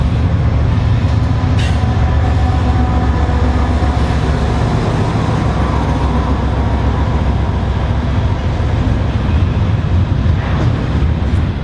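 A freight train led by a single ES44AC locomotive rolls past at close range, a loud, steady rumble of wheels and wagons that continues without letup.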